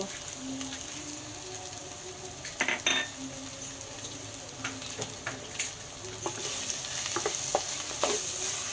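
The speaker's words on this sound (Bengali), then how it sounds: "গুঁড়ো লঙ্কা, গুঁড়ো ধনে, গুঁড়ো জিরে, গুঁড়ো গরম মশলা অ্যাড করে দেবো, দিয়ে আরও কিছুক্ষণ ভালোভাবে কষিয়ে নেব" Ground chilli, coriander, cumin and garam masala frying in mutton fat for mutton charbi ghugni, a steady close sizzle under repeated scraping and clinking of a spoon against the pan, with no talking.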